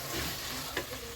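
Coriander and mint fry in a pan for ghee rice, giving a soft, steady sizzle with a brief stirring scrape partway through. It is quiet and close, with no talking.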